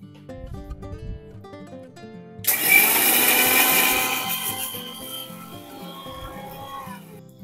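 A kitchen blender grinds mustard seeds with warm water, starting abruptly after a few seconds of quiet and holding a loud, harsh whir that slowly eases as the paste forms.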